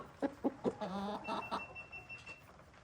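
Farmyard hens cluck close by in a quick burst of sharp, repeated notes, then give a longer drawn-out squawk, with a faint high tone running under the tail end.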